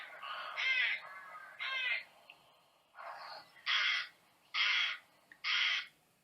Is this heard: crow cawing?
yes